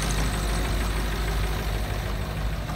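A 1996 Ford F250 with a 7.3 diesel engine idles at the exhaust on a cold day, giving a steady, loud, low rumble with a faint diesel knock throughout and no talking.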